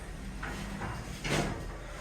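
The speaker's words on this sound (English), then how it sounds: "Doors closing." Lift doors in the British Motor Museum at Gaydon slide shut, a quiet soft whoosh ending in a brief louder bump in a hushed interior.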